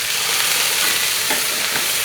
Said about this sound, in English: I'm gonna put my spices on with the olive oil and then sear it? Let's sizzle.